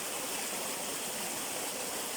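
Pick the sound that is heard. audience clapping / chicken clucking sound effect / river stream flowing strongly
river stream flowing strongly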